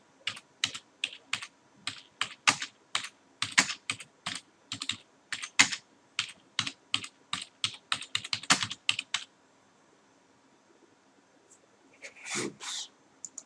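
Keystrokes on a computer keyboard while typing a flyer in Word, a rapid, uneven run of close clicks for about nine seconds, then a pause and a short final burst.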